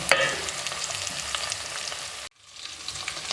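Beef sizzles steadily in a frying pan while being cooked for pilau, a loud, continuous crackle that cuts out abruptly for a moment before resuming.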